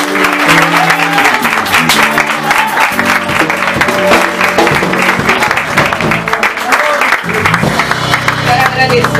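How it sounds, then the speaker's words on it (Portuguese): Church congregation clapping continuously alongside music with sustained tones, loud and dense throughout, with voices mixed in. "Aplaude o nome de Jesus."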